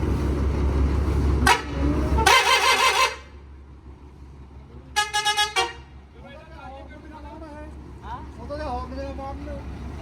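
Loud combine harvester horn blasts: a short toot, a long harmonic honk, then a rapid burst of several short honks, over engine rumble with people talking in between.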